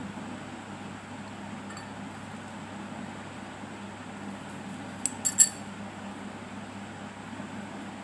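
A metal spoon clinks a few times against a glass or bowl while measuring out grated potato juice, quick faint taps midway through an otherwise quiet room hum.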